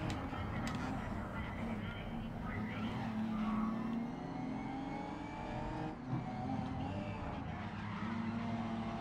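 Racing cars in the video game GRID Legends roar around a circuit, engines revving and shifting with tire squeal and skids, loud and continuous, while someone talks over the action.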